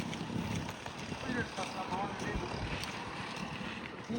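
A boat rides out on the sea off a beach, with steady broadband wind and water rush blowing across the microphone throughout and no clear speech.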